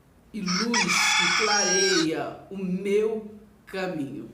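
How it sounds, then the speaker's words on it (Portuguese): A rooster crows repeatedly in long, loud, strained calls close by, with brief pauses between crows, while someone speaks Portuguese over it. "Ouviu o galo cantar?"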